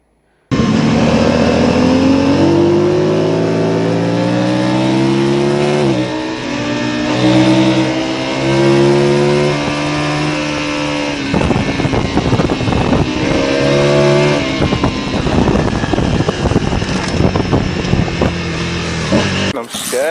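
A motorcycle engine with a stuck throttle revs hard and continuously at close range, its pitch climbing and surging, then breaking into rough, stuttering bursts; a voice is heard over it.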